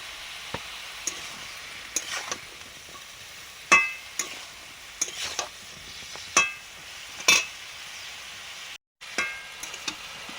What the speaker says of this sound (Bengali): অল্প জল দিয়ে ডাঁটা, সবজি মশলাটা কষে নিচ্ছি।